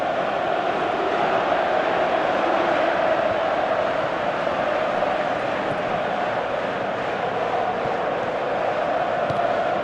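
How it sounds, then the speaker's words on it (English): Football video game crowd during a Manchester United Master League match, a steady, loud wall of stadium crowd roar and murmur sustained throughout without clear commentary. "Crowd appreciates good football all round there."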